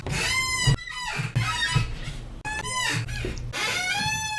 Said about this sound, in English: whole compilations of Wings of Redemption's chair squeaking